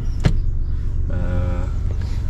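Electric sunroof on a Ford Fiesta ST sliding fully open: a brief click, then a steady whirring motor hum for about a second inside the cabin, ending with a soft stop.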